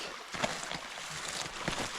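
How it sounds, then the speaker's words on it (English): Water flows in a forest creek with a soft, continuous rush and gurgle, heard at a modest distance, fairly faint, with light wind-like noise. "Look at this creek."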